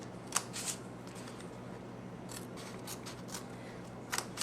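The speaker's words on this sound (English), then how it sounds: "you're going to snip" Scissors snip tabs into a paper pizza-box card, making several faint, crisp cuts spaced unevenly against a quiet background.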